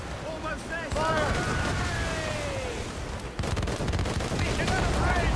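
Mortar and cannon fire during a naval battle in the game Assassin's Creed Rogue, with loud continuous booming blasts and crackling gunfire, whistling projectiles streaking overhead, a dense roar of battle throughout.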